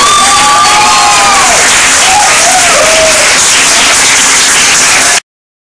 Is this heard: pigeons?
no